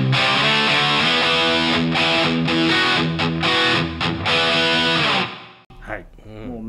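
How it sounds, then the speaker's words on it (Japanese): An electric guitar plays a distorted rhythm backing tone through a Headrush amp modeler set to a Marshall-style single-channel sound, loud and sustained with choppy stops and chords before it cuts off near the end. "もうメインのバッキングというか歪み系の音です"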